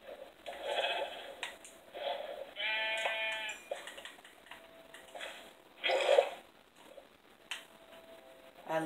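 Several separate Minecraft sheep bleats, a little distorted, sounding electronic, spaced a few seconds apart with quiet gaps between, plus faint ticking.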